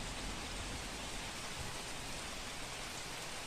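Heavy, unbroken rain pours down across Ahmedabad, a dense steady wash of drops hitting surfaces with no pauses and no voices.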